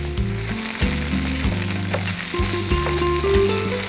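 Masala ragi appalu frying in a pan, a loud continuous sizzle with crackle under steady background music, no talking.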